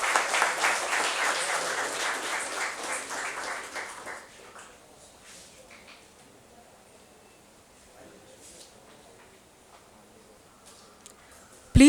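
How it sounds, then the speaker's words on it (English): Audience applause at a lamp lighting during an inauguration ceremony of a surface coating society in an auditorium, steady clapping for about four seconds before fading to quiet rustling room noise. "Can we please get a huge round of applause?"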